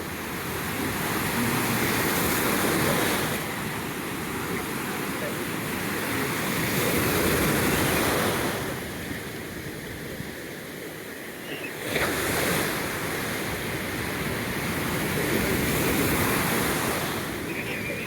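Steady roar of ocean surf washing onto a beach, swelling and easing in broad waves with wind noise over the microphone, no voices.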